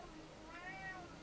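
An old tomcat meows outdoors beyond a hedge near a workshop, a single drawn-out call that rises and falls, faint and somewhat distant against quiet background noise.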